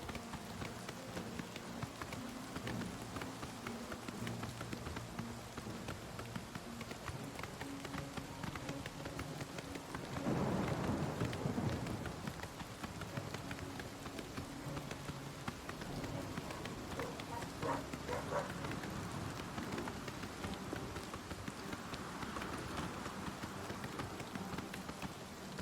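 Continuous rainfall fills The Elder Scrolls Online soundscape, a dense even hiss with faint hoofbeats and music underneath, swelling briefly into a louder gush midway.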